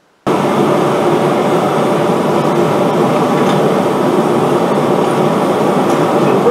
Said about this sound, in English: let's fire up the forge and heat up some metal